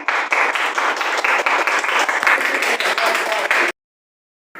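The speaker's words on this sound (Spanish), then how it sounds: "aplausos para Adriana." A classroom of secondary school students claps steadily in applause for a classmate after her presentation, a dense, even burst of hand claps lasting several seconds before stopping abruptly.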